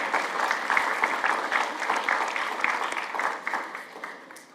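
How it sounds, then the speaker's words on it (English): An audience claps warmly for a congregant at a Simchat Torah celebration, dense sustained applause of many hands that gradually tapers near the end. "25 years, I think that deserves recognition and love and applause with Bob Herman."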